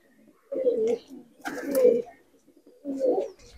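Malwai pigeons, including a small short-sided female, give three low cooing calls of roughly half a second each, close by, with pauses between them and no talk.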